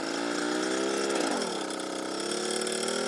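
A vintage moped or motorized bicycle engine buzzes steadily and fairly loud as the rider pedals off, its pitch dipping briefly and then rising again as it pulls away.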